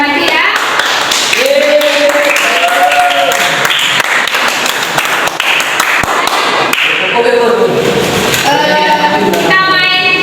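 Classroom applause for students who have just presented, a dense, loud burst of clapping from the group running the whole stretch, with voices and a short sung or called phrase rising over it.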